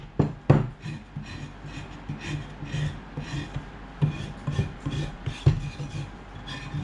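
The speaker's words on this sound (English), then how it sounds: "I'm not going to take off a lot of Plaster of Paris, smoothing it up, removing a bit of plaster from the sides" A Plaster of Paris foot cast being smoothed, plaster scraped from its sides: rhythmic rasping and scraping strokes, close and moderately loud, with a few sharper taps mixed in.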